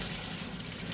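Well water runs from a tap over a banana being peeled, a steady, close, even rush of flowing water with no pauses.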